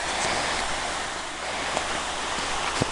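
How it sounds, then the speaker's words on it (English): A creek flows behind a backyard, a steady, fairly loud rushing wash of water with faint clicks and no talk over it. "And there's the creek out the backyard."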